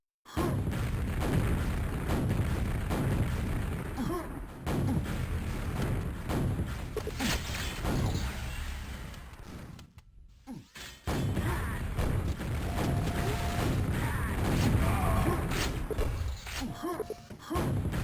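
Rocket launcher blasts and booming explosions fill a fast Quakeworld deathmatch, loud and nearly continuous with dense thuds and crashes, a brief silent gap near the middle, then renewed gunfire and impacts.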